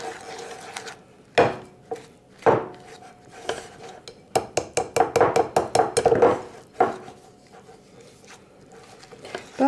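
A thick whisk works gluten-free batter in a bowl, producing irregular metallic clinks and scrapes, with a fast run of rhythmic taps in the middle and quiet gaps between strokes.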